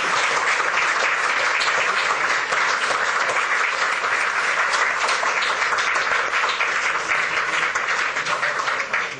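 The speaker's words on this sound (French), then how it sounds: "les applaudissements qui ont suivi après l'intervention de Madame la Présidente Mariam Rajavi" Sustained, dense applause from a large audience following a speech by President Maryam Rajavi, loud and steady throughout with no voices breaking through.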